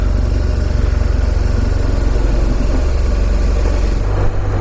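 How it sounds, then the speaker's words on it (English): A motorcycle with a K2X motor, the same engine used in R9Ts, rides along with a loud, steady pulsing engine drone and heavy rumble throughout. "This is a K2X motor, basically the same motor that the R9Ts are running in them."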